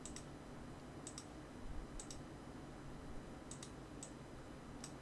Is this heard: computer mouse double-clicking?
yes